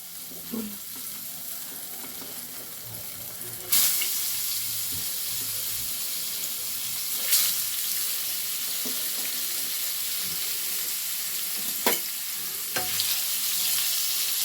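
Steady sizzling of paneer frying in a pan, with a few sharp clinks and scrapes of a utensil against the pan.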